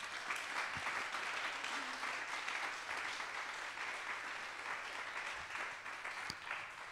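An audience claps for invited guests before a geopolitics round-table discussion, sustained even applause heard from within the hall at moderate distance, with a couple of faint knocks.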